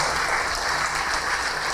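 Church congregation clapping together, a dense, steady wash of applause filling the hall at close range for its whole length with no break and no voices rising above it.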